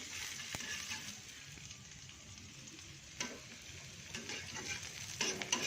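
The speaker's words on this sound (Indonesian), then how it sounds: "Pertama ini ada bawang, kita ceburin ya, bawang merah sama bawang putih." Shallots and garlic frying in a small pan, a steady close sizzle with a soft background hiss and occasional stirring scrapes.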